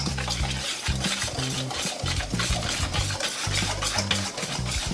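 A spoon scrapes and stirs through a corn flour mixture for beef tamales in a bowl, steady continuous scraping with rhythmic clinks, close and fairly loud, no talking.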